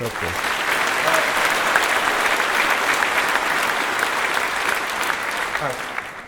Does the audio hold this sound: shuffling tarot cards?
no